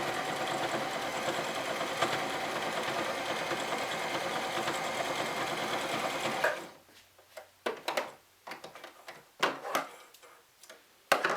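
Sewing machine stitching fabric with the foot pedal pressed hard: a fast, steady mechanical whir runs continuously for about six seconds, then stops, leaving only scattered short clicks and handling taps.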